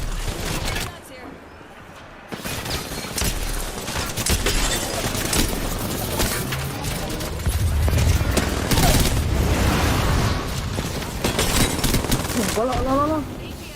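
Rapid gunfire bursts and heavy impacts in an Apex Legends ranked match fill a busy battle mix, with players talking over the shooting throughout.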